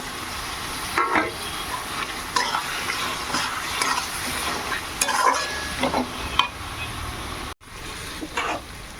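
Meat curry cooking in a pan with soybean oil as tomatoes go in, with a steady sizzle of frying under occasional scraping stirs from a spoon against the pan.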